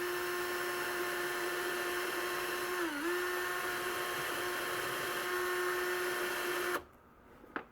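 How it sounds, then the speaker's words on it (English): A steady high-pitched drill whine deburring a hole in a washer runs for several seconds with a brief dip in pitch midway, then cuts off abruptly, leaving quiet. "Just turn the drill, and we're going to put this on a little bit of an angle to get rid of the burr"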